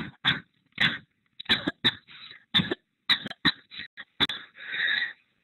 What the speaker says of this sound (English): Fortunato is having a coughing fit at the beginning of this excerpt.